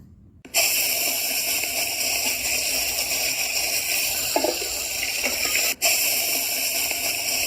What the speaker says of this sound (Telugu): అందులో మిర్చి వేరుశెనగుళ్ళు కరివేపాకు ఆవాలు తాలింపు దినుసులు ఎండుమిర్చి వేసుకొని ఫ్రై చేసుకోవాలి